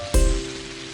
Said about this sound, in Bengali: যা বৃষ্টি হচ্ছে কদিন ধরে